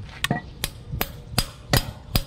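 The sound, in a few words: hammer pounding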